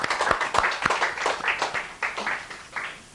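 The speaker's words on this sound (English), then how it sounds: "I would like for everyone in the audience to give our two authors another round of applause" An event audience gives two authors a round of applause: close, fairly loud clapping in uneven bursts with some distinct individual claps, fading toward the end.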